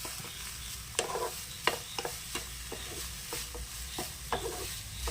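A spoon stirs and mixes puttu flour ingredients in a pan over a low sizzle, with sharp scraping clicks at irregular intervals and a soft, steady frying hiss underneath.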